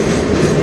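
A freight train running as the M385 / A485 on the Strathroy Sub near Sarnia rumbles past up close, a steady loud roar of wheels and cars with faint clickety-clack.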